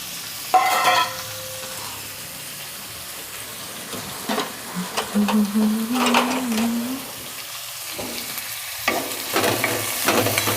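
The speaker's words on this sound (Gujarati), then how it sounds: "તેલ ગરમ થઈ ગયું છે હવે આપણે મૂરા અને પાલક નાખી દઈશું" Radish and spinach hit hot oil with a soft sizzle, followed by stirring and scraping in a pan, with a few clinks and pauses throughout.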